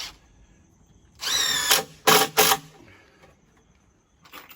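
A power drill drives screws into a desk in short bursts, one longer whirring run followed by two quick pulses, loud and close against a quiet room.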